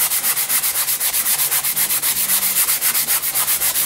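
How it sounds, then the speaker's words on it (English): A sanding block rubs back and forth over the wing of a vintage Bob Martin SR-7 RC slope glider. It makes a loud, close, steady rasping stroke about six times a second with no talk. "So once I have sanded this whole side"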